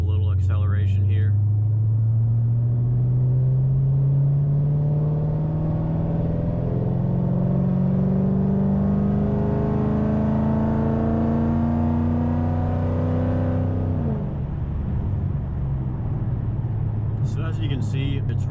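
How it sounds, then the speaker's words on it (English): Dodge Challenger Scat Pack V8 heard from inside the cabin, its deep engine note rising steadily in pitch under acceleration for over ten seconds before dropping back to a lower rumble, with a voice speaking briefly at the start and end. "I'll give you guys just a little acceleration here."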